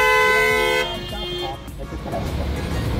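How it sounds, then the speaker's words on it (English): A car horn toots on a Beverly Hills street in Southern California: a long sustained honk up front, then traffic noise continues while someone talks over it. "better not be honking them."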